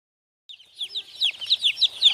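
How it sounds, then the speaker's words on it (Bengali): Several hens cluck in quick, repeated bursts at feeding time after a brief silence, close by and growing livelier, with no talking. "এখন আমাদের মুরগিকে খাবার দেওয়ার পালা"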